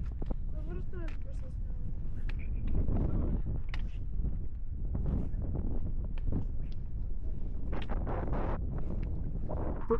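Strong wind roars and buffets the microphone throughout on Moldoveanu Peak, Romania, in fog, with people talking intermittently over the gusts.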